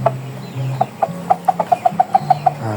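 A young yellow hybrid rooster gives a close, clear run of short, rapid calls that speed up into an even pulsing series, set against a quiet outdoor background.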